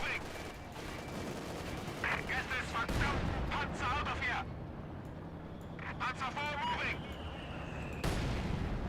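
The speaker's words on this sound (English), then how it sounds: "That mortar has a very long range." Mortar artillery fire in Company of Heroes 2, with distant thumping shots and explosions scattered through a steady rumble of battlefield noise, plus whistling effects and someone talking throughout.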